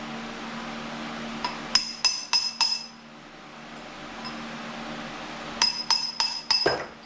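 Sharp metallic clinks ring out from a bearing being knocked out of the spindle housing on a Cub Cadet RZT-54 zero-turn mower deck, two quick clusters of four or five hammer taps each, separated by a pause with a low steady hum underneath.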